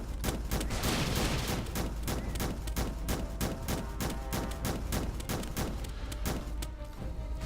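Weapon fire in the video game Starbound comes as rapid, repeated loud shots in a fast, uneven volley that runs nearly nonstop over a low background drone.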